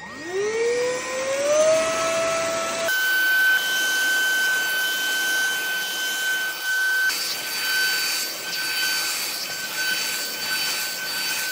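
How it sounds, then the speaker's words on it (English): A Homekia cordless vacuum cleaner spinning up with a rising whine, then running steadily with a loud, even high-pitched hum and airy rush, no voices. "let me show you why I love my Homekia cordless vacuum."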